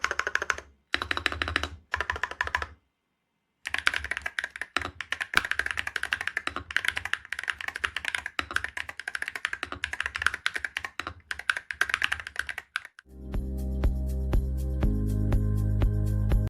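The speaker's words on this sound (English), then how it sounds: "You can listen to the Snowblade switch of the cross axis together." Snowblade cross-axis mechanical keyboard switches on a compact keyboard being typed on in quick, close, crisp clacking runs with brief pauses, until music takes over near the end.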